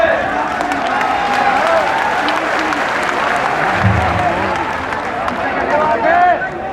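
A large crowd at a farmers' protest rally applauds and cheers steadily for several seconds, a dense continuous roar of clapping with scattered shouts and voices mixed in.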